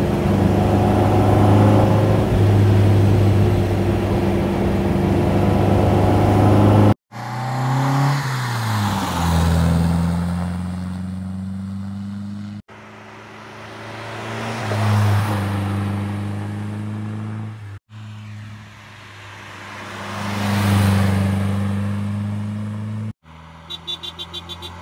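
A 1959 MGA 1500 roadster engine runs in several segments, a steady idle with low harmonic hum, then rising and falling revs that swell and ease back, close and fairly loud, with brief cuts between takes.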